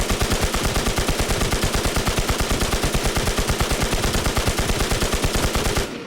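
A PKM machine gun in the shooter game Infestation fires a long, rapid, unbroken burst of loud, closely spaced shots for about six seconds, then cuts off abruptly.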